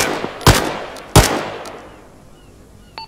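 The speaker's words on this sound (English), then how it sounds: "Peter suppressing fire." Two heavy booming gunshots from a machine gun in the Arma 3 military video game, spaced under a second apart with long echoing tails fading into quiet, a faint click at the end.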